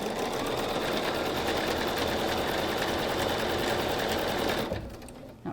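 Sewing machine stitching corner to corner across a quilt block, a loud steady mechanical whirr running continuously close up, then stopping abruptly near the end.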